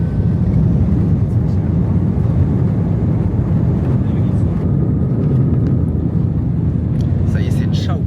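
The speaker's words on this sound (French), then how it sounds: "c'est l'heure du décollage" Airliner taking off from Brisbane, heard from inside the cabin as a loud, continuous low engine roar and rumble that never lets up, with voices faintly under it.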